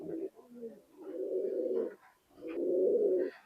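Pakistani high flying pigeons in a loft give a few low, drawn-out coos in separate bursts, close and moderately loud, with no other sound between them.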